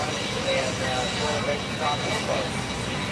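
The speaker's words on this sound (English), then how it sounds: "Y'all can probably hear that jet dryer." A jet dryer blows over a drag racing strip at an NHRA Top Fuel event in Norwalk, Ohio, giving a steady, loud, broadband jet roar that fills the whole clip with little change in level.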